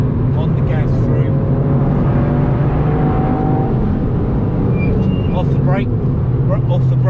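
A Toyota Yaris GR accelerates around the Nürburgring Nordschleife, its engine roaring steadily from inside the car while a voice talks over it.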